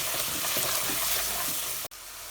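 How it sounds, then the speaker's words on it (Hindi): Spiced masala with red chilli and turmeric is stirred in a pan for a sour aubergine curry, giving a dense steady sizzle with soft scraping that cuts off abruptly near the end, no voices. "अब हम इसे अच्छी तरह से मिक्स कर लेते हैं"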